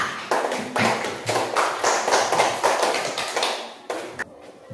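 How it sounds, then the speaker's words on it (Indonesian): Applause in a classroom for a student group, a short burst of many hands clapping together, dense and fairly close, fading out after a few seconds. "Mari kita berikan aplaus untuk kelompok A"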